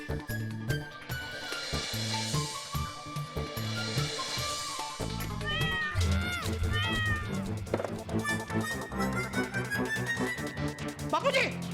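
Several cat meows rise and fall among other sounds, heard through a television speaker, with people talking over and around them.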